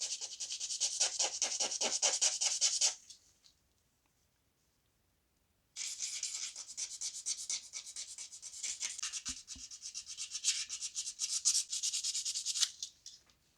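Close rasping strokes of hand-rubbing and sanding along the edge of a nitrocellulose-finished Fender Stratocaster or Telecaster body, steady and rhythmic, with a pause of a few seconds in the middle before the rubbing resumes.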